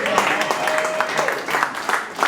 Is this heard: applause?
yes